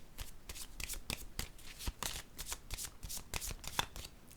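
Tarot cards shuffled by hand, a dense run of quick riffling flicks and soft slaps, close and continuous, with no talk.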